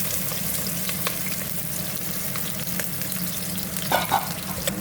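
Onions, black pepper and cloves fry in hot oil with a dense, steady sizzle up close, joined near the end by a couple of soft stirring scrapes.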